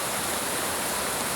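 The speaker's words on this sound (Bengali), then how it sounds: "কিন্তু এত বৃষ্টি পড়তেছে" Heavy rain pours down outside a balcony, a dense, steady hiss that fills the whole moment at even loudness, with no voices over it.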